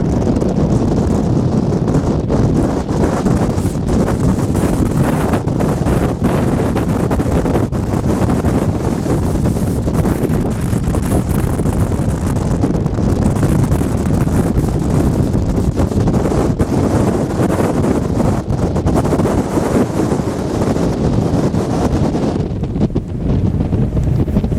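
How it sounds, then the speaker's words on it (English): Strong storm wind gusts at anchor off Hawaii roar continuously across the microphone, a loud, steady buffeting blast with surging peaks aboard a boat, while the engine idles beneath the gusts. "The gust just came down, blowing steady 30, 35."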